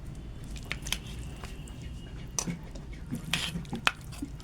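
Shukto, a Bengali mixed vegetable dish, being served onto a plate: soft wet squishes and a few light clinks of a utensil against the dish, close and quiet, in short irregular bursts.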